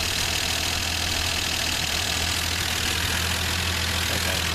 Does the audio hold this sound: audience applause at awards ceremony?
no